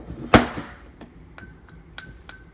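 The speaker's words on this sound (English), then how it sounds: "It even rings like ceramic." A Schrade Old Timer sharpening stone with a ceramic-like feel gives a bright ringing clink when tapped, one sharp strike followed by several fainter light taps, close and without talk.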